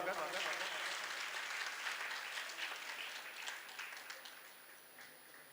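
Loud, dense applause of welcome rises from an audience at an International Yoga Day program, sustained clapping that gradually fades toward the end.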